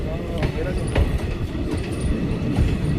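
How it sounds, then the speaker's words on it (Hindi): A new special passenger train from Ringas rolls past with a steady rumble and faint wheel clatter, loud and nearby, while someone talks over it. "घर पहुँचने से पहले मुझे क्या दिखा, रींगा से स्पेशल ट्रेन"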